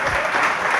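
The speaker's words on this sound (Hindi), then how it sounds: "एक आध बार तालियां बजाना तो ठीक है, किंतु तालियां तालियां ये तो हर बात पर तालियां बजा रहे" Applause from a seated crowd during a Jain religious discourse, a brief, steady wash of clapping heard on its own.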